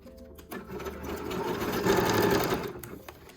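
A sewing machine runs a zigzag stitch along the binding of a lingerie bodysuit, a steady close mechanical whir lasting about three seconds that swells slightly toward the middle before easing off.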